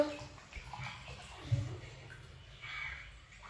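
Water splashes and pours steadily from a mug for a few seconds, fairly close and soft, with a faint bubbling gurgle.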